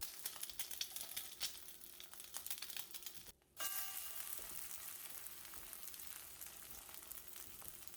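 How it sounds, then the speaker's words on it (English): A perfectly round, thick egg, seasoned with salt and pepper, fries in a pan with a steady soft sizzle and fine crackles. The sizzle cuts out briefly midway, then carries on alone without talk. "going to fry up a perfectly round, thick fried egg just like you'd get from McDonald's"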